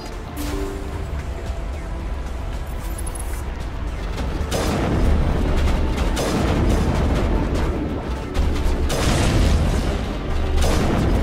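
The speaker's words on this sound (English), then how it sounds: "sniper rifle." Sniper rifle shots in the Mass Effect: Legendary Edition video game: loud, heavy booming blasts over a dense, continuous game soundscape, with the sound swelling louder partway through.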